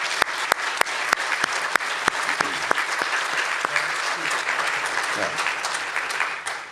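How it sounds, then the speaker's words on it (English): An audience at a journalism award ceremony claps steadily for several seconds, a dense even roll of applause with a few sharp individual claps standing out near the start. "All right, let's give a round of applause."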